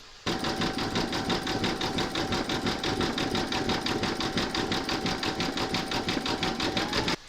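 A computerized embroidery sewing machine stitches a decorative satin stitch border around a witch's hat design, a fast, steady mechanical chattering hum with rapid regular needle strokes, close and continuous from start to finish, with no voices.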